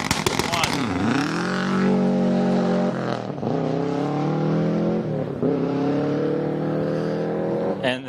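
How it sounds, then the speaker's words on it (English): A rally car accelerates hard away from the start line at night at the 2019 Tall Pines Rally, its loud engine climbing through several gear changes and pulling away, with a commentator talking over it. "One of the most spectacular parts about rallying is to see those cars head off into the woods in the dark."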